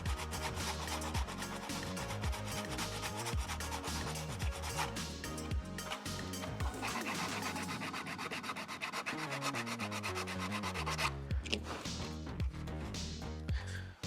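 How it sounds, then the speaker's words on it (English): Sandpaper edge rubs steadily across ABS plastic during a Scout Trooper helmet build, giving a continuous, close, rhythmic scraping that runs the whole time with no talking. "On one side we've got the sandpaper edge and on the other side we've got no sandpaper."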